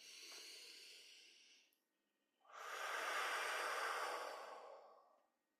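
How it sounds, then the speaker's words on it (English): A slow, deep breath, an audible inhale followed by a brief pause and then a long, airy exhale, soft and close in a quiet room. "just take a deep breath"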